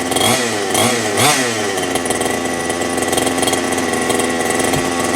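A gas-powered Baja 5T RC car engine idles to warm up, a loud, steady buzzing two-stroke drone close by with a few brief revs near the start.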